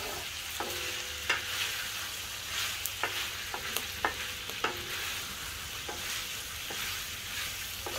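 Chicken meat fries in its own rendered fat in a pan, a steady close sizzle broken by sharp clicks and scrapes of a utensil stirring.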